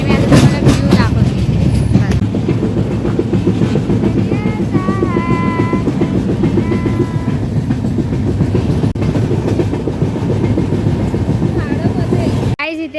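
A passenger train running on rails, its steady loud rumble and rhythmic clatter filling the whole stretch from inside a carriage, with people talking and laughing underneath and a sharp shift near the end.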